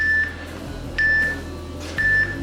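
Three short electronic beeps at even intervals about a second apart, clear and close over a low steady hum.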